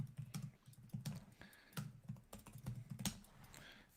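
Quiet, rapid keyboard typing, clicks coming in uneven bursts with brief pauses, close up and alone.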